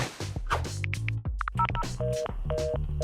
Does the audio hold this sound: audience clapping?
no